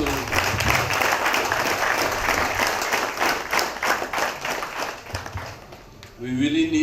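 Audience applause at a futsal launch event held in a remand yard prison, dense steady clapping from a crowd that fades briefly before swelling again, with voices mixed in underneath.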